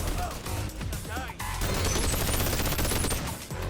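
Turrets and omni projectors firing in a Bonelab mod room, a dense, loud barrage of rapid shots and crashes running almost continuously with brief dips, under a busy game mix.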